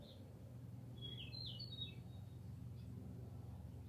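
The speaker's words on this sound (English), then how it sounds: "Okay, Blackbird, shut up." A blackbird sings a few brief, bright phrases in the distance over a steady low rumble of background traffic.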